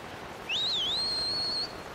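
A single rising, wavering whistle used to call a bird in Zelda: Skyward Sword, clear and sustained for about a second against a quiet background.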